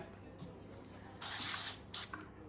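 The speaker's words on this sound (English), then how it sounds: "I think I'm supposed to spray" Two short hissing bursts of cooking spray, the first longer, sound up close against a quiet room background while making a spinach and ricotta pie.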